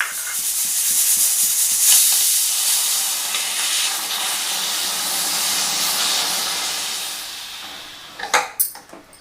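A loud, continuous pressure cooker whistle hisses steadily for several seconds while black gram lentils cook, then breaks into a few short sputtering bursts at the end.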